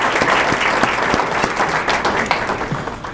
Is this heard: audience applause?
yes